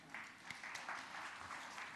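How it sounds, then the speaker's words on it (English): A conference audience claps in a short, steady burst to welcome a speaker at a philosophy conference evening session, quiet and somewhat distant. "We welcome our speaker with claps."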